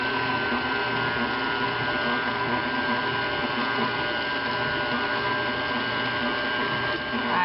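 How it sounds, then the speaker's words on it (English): An electric mixer whirring steadily as it blends seasoned lasagna filling, a constant motor hum with no break. "Unplug our mixer because we're done with that."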